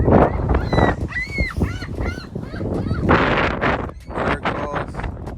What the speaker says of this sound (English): The geese out here eating.